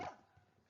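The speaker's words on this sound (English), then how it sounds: "Stupid dog." A dog barks once, loud and close, then its sound trails off into a quieter room background.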